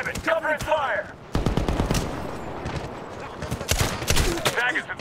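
Bursts of gunfire crack loud and close in a Medal of Honor (2010) firefight on PC, rapid volleys repeating throughout while soldiers shout over the shooting.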